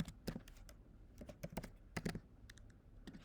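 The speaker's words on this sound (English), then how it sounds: "And then we type in the password" Password being typed on a computer keyboard: a run of light, irregular key clicks in short bursts, close and fairly quiet, with no talking.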